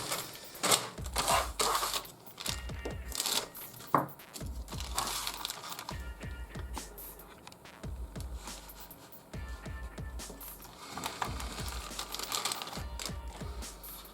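Plastic bags around Trumpeter 1/200 Bismarck model kit sprues are opened up, giving close, repeated crinkling and rustling with occasional taps and clicks of the plastic parts.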